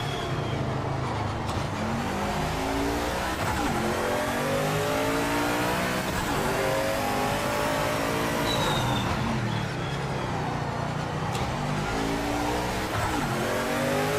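A Sauber race car in Project Motor Racing screams loudly and continuously, its engine note climbing through repeated upshifts with brief dips between gears, with no one speaking.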